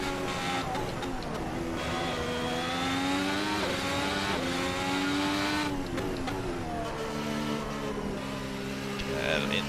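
A 2017 works Ferrari race car engine revs hard and continuously in the Assetto Corsa video game, rising and falling through the gears with a loud, sustained harmonic whine and shifts, a commentator talking over it.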